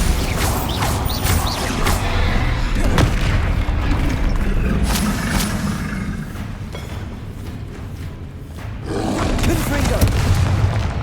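Bombarda explosion spell cast in Hogwarts Legacy, a deep booming blast that rumbles over continuous battle noise and shouted spell names, with another heavy burst rising near the end.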